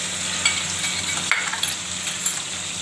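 Chili paste sizzling in a hot pan while being stirred for an aloo dum recipe, a steady bright frying hiss with occasional scraping stir strokes and soft clinks of the utensil.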